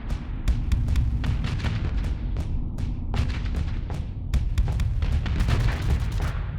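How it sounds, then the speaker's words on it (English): The Mauler cannon fires alone in the space combat game Starsector, a rapid series of sharp, booming shots with distinct cracking onsets over a constant heavy rumble. It is loud and sustained, and no one speaks. "And now this is nothing but the Mauler in action"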